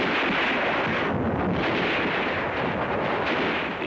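WWII battle sounds of rifle fire and mortars come through as a dense, roaring wash of distant gunfire and blasts, heavy and continuous with wind-like noise, at a fairly low level and without voices.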